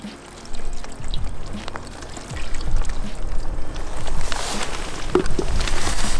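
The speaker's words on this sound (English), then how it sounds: "I'm gonna put a little bit more hot water." Hot water poured over peeling paint protection film on a car, with scattered splashes and trickles that build into a fuller, continuous pour toward the end.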